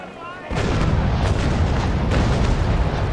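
Ship cannons firing in the Naval Action naval combat game, a sudden heavy broadside of booming shots rolling into a sustained rumbling barrage after a quiet start.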